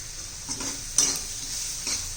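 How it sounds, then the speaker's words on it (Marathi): Asafoetida is stirred into hot oil for a chivda made from leftover bhakri, with a steady sizzle and a few scraping strokes of the spoon against the pan. "चांगलं मिक्स करून घेऊया त्यात हिंग घालायचं आहे"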